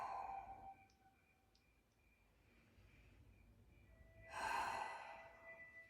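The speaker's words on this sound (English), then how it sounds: "Breathing through the back of the throat, making a sound." Ujjayi breathing through the back of the throat: a soft, breathy hiss at the start, a quiet gap, then a louder, longer throaty exhale, close and alone.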